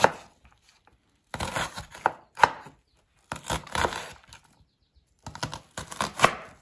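A kitchen knife chops an onion on a cutting board in three separate bursts of quick, crisp, rhythmic strokes, close and clear, with short silent pauses between them.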